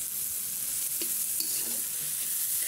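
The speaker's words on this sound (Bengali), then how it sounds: "তো পেঁয়াজটা হালকা ভেজেছি" Sliced onion fries lightly in a small amount of oil for chicken masala, giving a close, steady sizzle with brief stirring scrapes and no voices.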